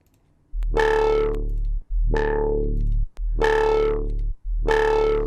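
A gritty, distorted synth bass plays four sustained notes, each buzzing loudly and cutting off abruptly, with no voices.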